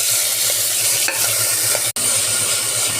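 Onions and tomatoes sizzle and crackle steadily in a hot pan, with a brief scrape of stirring partway through.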